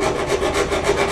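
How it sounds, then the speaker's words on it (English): Hand file rasping down unwanted notches until flat, a close, continuous gritty scraping in quick rhythmic strokes lasting about a second, with no voices. "all you have to do is file it down to where it's flat"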